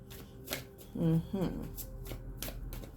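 Tarot cards being riffled and shuffled by hand during a love reading, several quick papery bursts close up, with a short spoken remark partway through.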